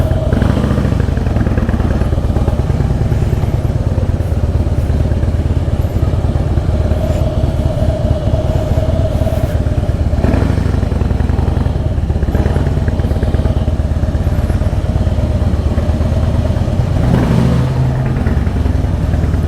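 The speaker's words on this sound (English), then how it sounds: "The grunt of the bike is absolutely beautiful." Harley-Davidson Fat Boy motorcycle engine while riding, a loud continuous low rumbling grunt with rising and falling revs and wind noise, close, with no speech.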